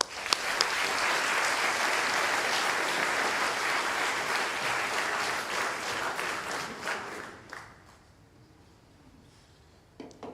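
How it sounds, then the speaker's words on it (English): Audience applause at a high school sports awards ceremony, a dense steady round of clapping for about seven seconds that then fades to a few scattered claps. "So let's give both these teams another round of applause."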